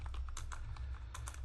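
Command being typed on a computer keyboard during a network router configuration session, a quick run of close, light key taps in an uneven rhythm over a low background hum.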